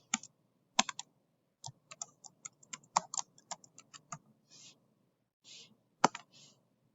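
Keys tapped on a computer keyboard while a name is entered into an image search box, a fast irregular run of light clicks with short pauses, close and alone.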